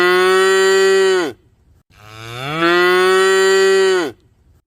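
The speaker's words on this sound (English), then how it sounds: "Cow." A cow moos twice, loud and close: two long, deep, drawn-out calls separated by a short silence, the second one swelling up slowly before cutting off.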